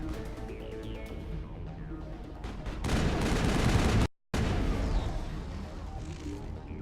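Gunfire in the Mass Effect video game, a sustained loud burst of shooting under a busy game mix, cut off by a brief dropout of total silence before the background returns more quietly.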